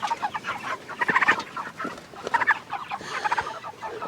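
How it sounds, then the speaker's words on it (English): A live chicken on a farm clucks in short, busy bursts, close and fairly loud, with the calls coming in uneven clusters and no voices over them. "The breast on this chicken is big."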